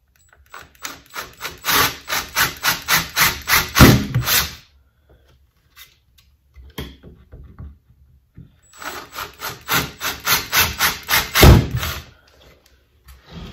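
A drill bores pilot holes into the wood of an Arcade1up arcade cabinet in two close bouts of rapid, rhythmic grinding pulses, separated by a quiet pause with a few light knocks.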